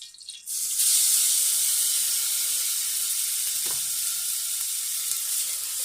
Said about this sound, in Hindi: पैन में मैंने 1 चाय का चम्मच जो है वो ऑयल डाल लिया और अब इसके साथ ही इसमें हम कुटा हुआ लहसुन और अदरक डाल देंगे